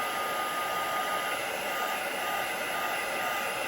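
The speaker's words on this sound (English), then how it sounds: "And then I'm just going to also heat the back." A heat tool blows steadily across the back of a stamped fairy card, giving a continuous, even whooshing roar close by that holds unbroken from start to finish with no talking.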